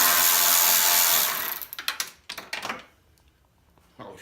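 A Milwaukee M12 ratchet or impact breaks a bolt loose with a loud rushing burst followed by a quick series of sharp clattering hits. The hits taper off into near quiet, and a faint sound returns at the end.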